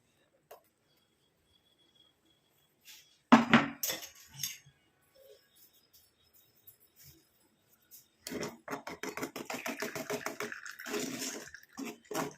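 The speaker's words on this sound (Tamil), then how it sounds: "நல்ல ஸ்மூத் பேஸ்ட்டாக நமக்கு வேணும்னா இந்த மாதிரி வடிகட்டிக்கலாம்" Herbal hair dye paste, ground from karikottai, is pushed through a strainer, giving a brief clatter and then a run of quick, rhythmic wet scraping and tapping close by.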